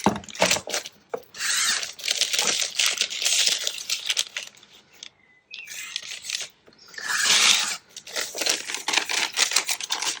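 Scissors trimming coffee-dyed tracing paper in a craft setting, a run of close, crisp snipping and rustling strokes, paused briefly in the middle, with no talk.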